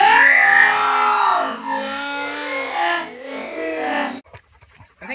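Hunting dog on an Independence Day coon hunt, whining and crying after being stung: a long wavering high-pitched whine, loud and near, breaking off into faint panting and rustling.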